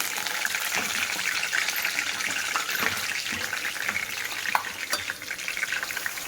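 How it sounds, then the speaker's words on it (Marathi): Curry leaves hit hot oil after crackling mustard seeds and cumin while tempering Khandeshi dal gandori chilli bhaji, giving a steady, close, loud hiss and sizzle with scattered small pops throughout and no talking. "तर चला आपण आता भाजीला फोडणी देऊया."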